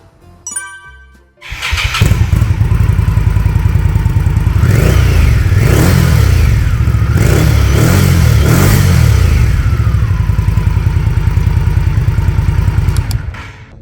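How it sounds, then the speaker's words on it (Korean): A 2022 Indian Scout Bobber ABS with a 1133cc engine and stock muffler cranks over and fires up. It settles into a deep, loud, close rumbling idle with several throaty rev blips in the middle, then drops back to a steady idle. "이제 순정 머플러 소리 한번 들어보겠습니다"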